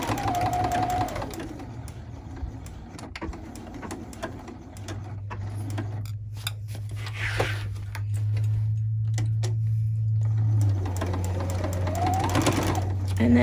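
A sewing machine stitches binding along a straight edge of a log cabin table runner, running in a steady close whirring rattle through the middle of the clip, with brief mechanical clicks and handling at the start and end.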